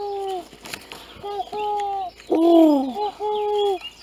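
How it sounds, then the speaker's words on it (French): Several pigeons coo in a wood at a Hinges camp, soft rounded calls repeating in bursts of two or three, with one louder, closer coo in the middle and faint background rustle. "Il y a beaucoup de pigeons ici."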